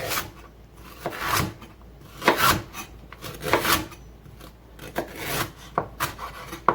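A knife slices fresh galangal into thick pieces for Thai tom yum goong, making a series of close, scraping cuts in an uneven rhythm with no speech.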